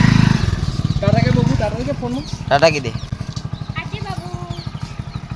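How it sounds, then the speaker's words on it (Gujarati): A motorcycle readied for a ride on a farm outing runs with a steady, rhythmic putter. Family members talk loudly over the engine at first, then the sound settles into an even, pulsing beat. "ગાડી નહીં તૈયાર કરી, બાઇક તૈયાર કરી"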